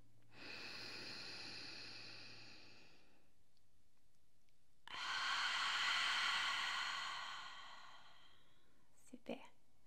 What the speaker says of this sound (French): Inspire par le nez. Et expire par la bouche.